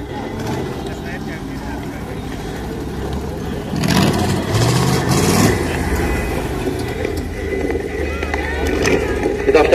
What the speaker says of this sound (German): Mit der Startnummer F26, ein Flathead Pontiac Coach von Baujahr 1926.